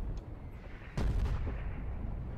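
Heavy gunfire from a machine gun tank defending a bunker in the Foxhole war game: one loud, booming shot with rumbling low end over constant battle noise.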